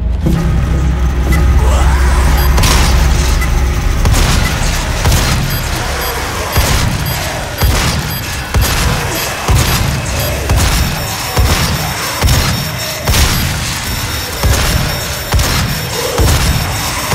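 Loud, dense booming blasts and rumbling roll on continuously, with repeated heavy impacts in a cluttered, intense soundscape, from explosions in the video game DOOM (2016).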